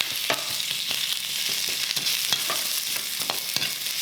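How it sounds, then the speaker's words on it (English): Onions and peppers stir-fry in a hot wok with a little oil, a steady bright sizzle running throughout with scattered clicks and scrapes from stirring, close and loud, no talking. "It's on a high heat, my wok, so just a little bit of oil around the edge, and then they can go straight in."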